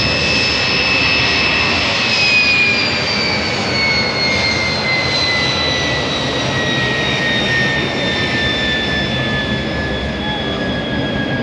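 Propeller aerobatic team airplanes fly overhead at the Wings Over Solano air show, a loud, steady engine drone with a slowly falling whine as the formation passes.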